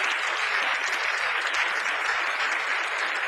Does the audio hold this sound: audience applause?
yes